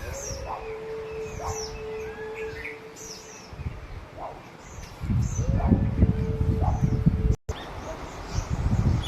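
Sparrows chirp in short, repeated high notes over a low rumble of background noise at a temple surrounded by water, the calls scattered and moderately distant.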